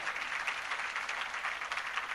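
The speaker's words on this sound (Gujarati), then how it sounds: "એક વખત જોરદાર તાળીઓથી વધાવો" A crowd at a Gujarati comedy show in Surat breaks into steady applause, a dense, even wash of clapping heard from a distance and fairly soft, with no voices over it.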